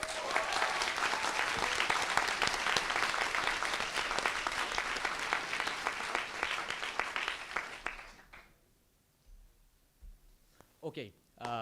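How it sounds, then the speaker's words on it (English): A large audience at a council general assembly breaks into loud, sustained applause with dense clapping for about eight seconds, then it fades to near silence, followed by a few faint sounds. "So I would kindly ask you for a very big applause for them"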